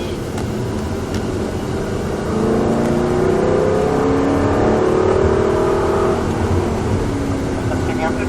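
An Aston Martin V8 Vantage accelerates on the Croix-en-Ternois race track with a loud engine roar that climbs in pitch. An instructor talks over the engine the whole time.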